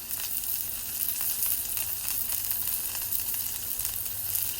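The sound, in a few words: ribeye steak sizzling on a Blackstone griddle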